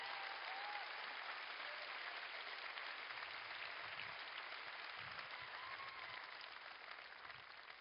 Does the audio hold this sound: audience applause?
yes